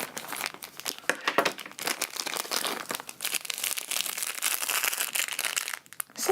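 A plastic bag of glittery decorative sand is wrestled open by hand, giving sustained crinkling and crumpling with sharp crunchy bursts that run nearly nonstop, close and fairly loud.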